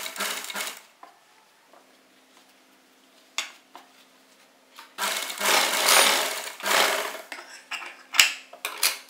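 Short bursts from a sewing machine stitching pleats on a kurta, separated by quiet gaps and clinks of handling, with the longest run of stitching in the middle.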